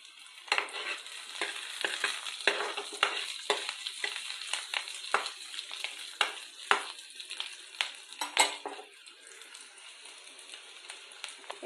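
Food frying in a pan is stirred again and again, with a constant sizzle under repeated scraping strokes of a utensil. The sound is close and moderately loud, with no talking.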